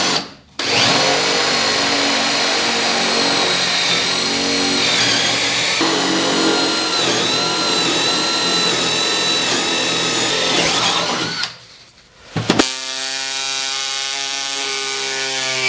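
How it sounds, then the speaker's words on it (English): A Snap-on pneumatic hacksaw cuts metal during an inner door install on a Willys, giving a loud, continuous buzzing rasp with a whining edge for about eleven seconds, then a brief stop and a shorter run at a lower, rougher tone. "My pneumatic hacksaw here is dying."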